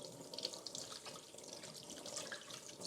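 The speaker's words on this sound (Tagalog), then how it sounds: "Yan, hugas ng chicken." Tap water runs steadily over raw chicken being washed in a kitchen sink, a faint, continuous splashing hiss with small irregular drips, quiet and close with no talking.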